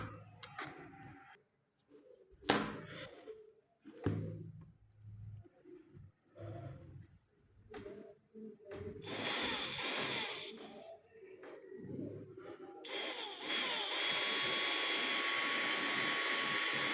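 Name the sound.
12V 775 DC motor running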